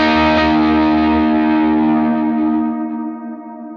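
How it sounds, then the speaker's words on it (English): Electric guitar with light overdrive, ambient reverb and dotted eighth delay rings out as a loud sustained chord that slowly decays, the upper harmonics fading first while the lower tones linger. "I go to this drive 1 snapshot, which is just light overdrive, ambient reverb, and that dotted eighth delay"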